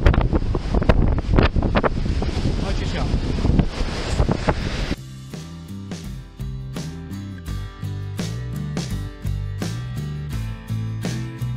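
Wind-driven ocean waves roar on an open shore, a dense, blustery rush of surf and wind buffeting the microphone for about five seconds before music takes over.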